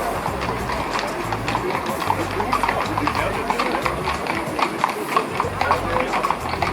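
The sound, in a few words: horses' hooves clip-clopping on a Vienna street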